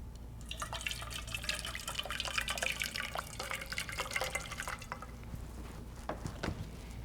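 Hot water pours and splashes over a glass beer bottle being scored for cutting, a steady close running-water rush with drips that thins out toward the end.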